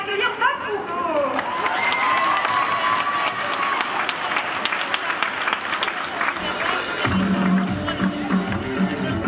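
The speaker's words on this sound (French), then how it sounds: "on attend tous vos applaudissements pour accueillir Bakugo" An audience at a cosplay parade claps and cheers loudly over music and a voice, then the applause fades out and a quieter tone takes over near the end.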